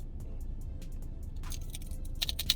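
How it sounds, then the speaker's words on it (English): Crunchy bites of Pei Wei Mongolian chicken nachos, a few sharp crisp crunches near the mic over a low background rumble, with the louder crunches coming toward the end. "Oh, crunch."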